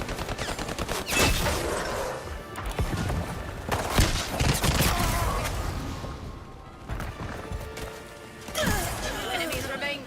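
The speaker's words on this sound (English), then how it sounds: "Throwing a grenade." A grenade explosion and bursts of gunfire in the video game Highguard crack and boom at close range, with several heavy blasts and rattling shots spread across the stretch while people talk over the action.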